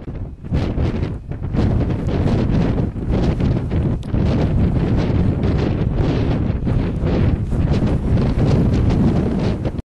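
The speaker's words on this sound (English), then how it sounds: "As you can hear, it's blowing a gale." Strong, continuous gale-force wind on a Lake District fell near Ullswater, roaring and buffeting against the microphone, loud and unbroken, with gusts rising and falling throughout.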